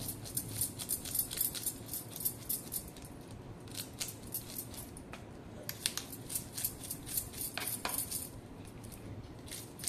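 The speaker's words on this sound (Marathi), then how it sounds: "तर हा ढोमा मासा, ह्याच्यावरती खूप खवल्या असतात बारीक बारीक, त्या अशा सुरीने खरडून काढायच्या" A knife scrapes the fine scales off a dhoma fish in repeated quick rasping strokes, with bright metallic scratches coming in clusters. No one speaks.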